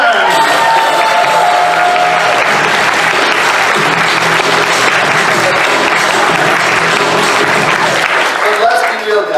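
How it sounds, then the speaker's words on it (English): Loud, sustained audience applause with cheering and whoops fills a convention hall as a guest host is welcomed at a Transformers fan event, steady and dense throughout. "please do give a big round of applause to our guest host"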